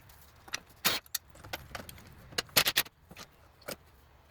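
A socket wrench loosens the inverter bracket bolts on a Toyota Prius, with sharp metallic clicks and ratcheting bursts close by, irregularly spaced and clustered in a quick run toward the end.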